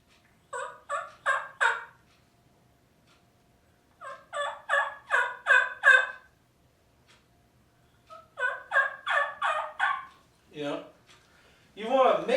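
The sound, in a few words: low rasp turkey call imitating a young hen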